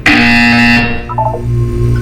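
A single loud, harsh buzzer sounds for under a second in Portal 2, followed by a few softer electronic tones.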